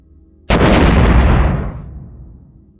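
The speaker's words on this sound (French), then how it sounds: "Elle venait d'entendre l'explosion derrière le camp." A grenade explosion goes off as a sudden loud blast, then a dense rumbling roar that fades out over about two seconds.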